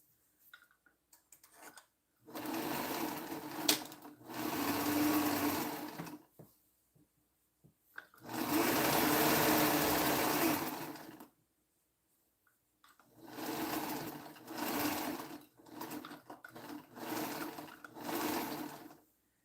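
A sewing machine stitches in several separate runs of rapid, whirring needle strokes, each lasting a few seconds. Quiet pauses fall between the runs, the sound is close, and no one speaks.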